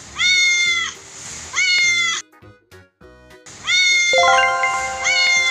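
A cat gives loud, drawn-out meows close by, with two long calls, a short quiet gap of faint sounds, then another sustained meow that rises into an overlapping wail.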